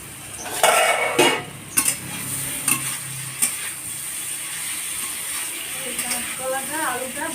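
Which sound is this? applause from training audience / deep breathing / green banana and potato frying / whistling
green banana and potato frying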